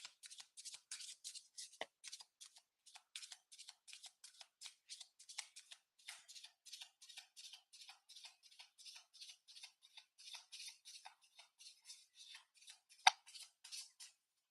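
Twin Flame Ascension oracle cards shuffled by hand, quiet rapid papery riffles and flicks repeating in short bursts close to the ear, with one sharper tap near the end.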